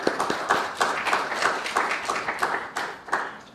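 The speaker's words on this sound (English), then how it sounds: "let's just give our panelists and the convener a big hand of applause" An audience at a Pacific peace conference applauds its panelists and convener, steady clapping from many hands at close-to-moderate distance, with no voices over it.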